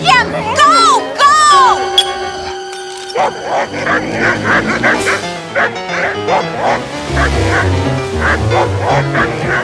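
In an animated family comedy, dogs bark, yip and whimper in a loud scuffle, with rapid yelps and growls mixed with excited voices and crowd noise.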